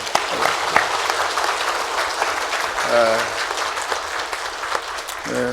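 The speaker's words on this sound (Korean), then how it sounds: "한 번 더 감사와 영광의 박수 한번." Sustained applause from a church congregation at a Christmas Sunday service, steady clapping throughout with a few voices briefly audible over it.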